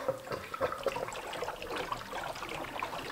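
Water trickles and splashes steadily at close range from a reopened valve on a chicken auto-waterer, a continuous gurgling flow with no voices.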